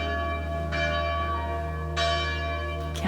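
Church bells ring in the background of an abandoned former boarding school, with strong sustained tones and two clear strikes swelling partway through, and no voices.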